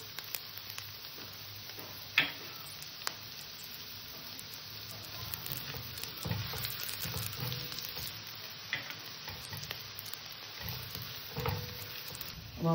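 Chopped ginger, garlic and onion sizzle steadily in hot oil in a pan, a continuous close frying hiss with occasional stirring clinks and pops, no talking.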